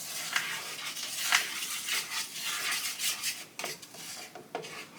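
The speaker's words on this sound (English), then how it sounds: "Mix the sauce. Oh yeah. Go ahead and stir that around." Spoon stirring a brown sugar ramen sauce in a pan, soft scraping and scattered light clinks of utensil against the pan, close and fairly quiet, irregular strokes with no talking.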